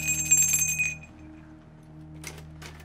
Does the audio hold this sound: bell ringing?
yes